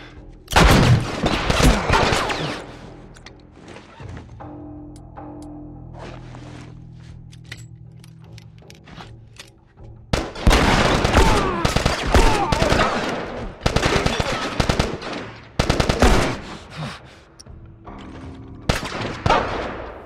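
Gunfire in The Last of Us, with loud close bursts of rapid shots and single cracks arriving in clusters, separated by quieter stretches of low rumble and ambient hum.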